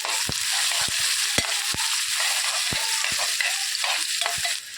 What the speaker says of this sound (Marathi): हळद मिक्स करून घ्यायची आहे सगळी